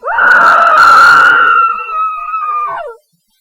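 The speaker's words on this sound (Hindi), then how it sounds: "शारदा देवी अपने बेटे की लाश देखते ही चीखी।" A woman's long, piercing scream used as a sound effect in a Hindi audio mystery story, loud and close, sustained for about three seconds before cutting off abruptly into silence.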